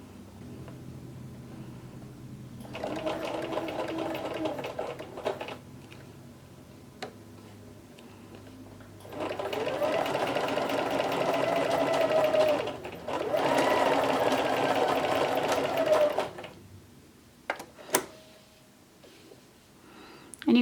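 A sewing machine stitches vegan leather at a 3.5 stitch length, running in several bursts of a few seconds each with pauses between, a steady close mechanical whir and tick, with faint voice in the gaps.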